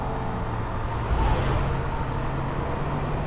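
Holden VF Ute engine during a Nürburgring record lap, a continuous engine drone that swells briefly as it shifts back into second gear, then carries on steadily with no voices.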